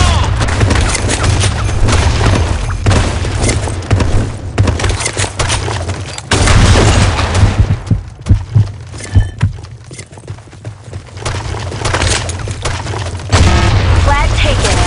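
Booming grenade blasts and bursts of gunfire fill a Blackshot multiplayer match on the Sand Storm map, loud and dense with short quieter gaps. Game voice callouts sound over the action.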